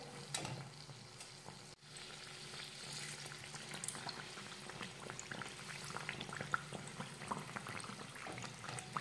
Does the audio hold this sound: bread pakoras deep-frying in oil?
yes